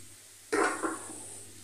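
Boiled mashed potatoes dropped into a pan of fried spices, a sudden soft sizzle and stir that swells and fades over under a second, close by.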